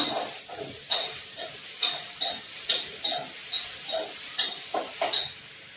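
Onions browning in a pan for a chicken recipe give off a soft sizzle, punctuated by a regular series of light clicks and scrapes from stirring, with no talking.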